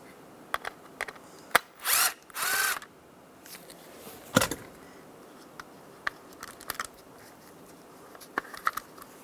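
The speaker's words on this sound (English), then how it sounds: "We're going to take these two screws out. I'm going to use a T20 socket." A power driver with a T20 socket backs out the switch bezel screws on a 1999-2006 Chevrolet Silverado 1500, giving two short whirring bursts among scattered clicks and ratchet taps, close up and with no talk.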